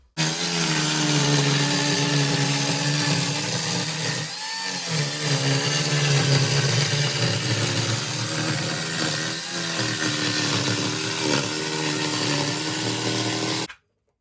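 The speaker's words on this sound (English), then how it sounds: "It's never let me down, this little saw." A small 85mm power saw cuts steadily in a workshop, a loud continuous whine with slight pitch dips as the blade bites, running alone for about thirteen seconds before stopping.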